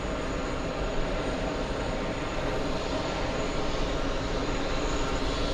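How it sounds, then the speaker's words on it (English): A Delta Air Lines Boeing 757 jet at JFK gives a constant loud, broadband engine roar that holds steady throughout, with no voices. "Let's go for the 757, Delta Airlines."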